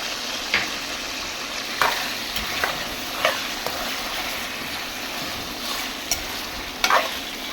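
Garlic ginger paste fries in hot oil with browned chicken in a karahi, giving a steady close sizzle broken by occasional sharp scrapes and clinks of a spoon stirring.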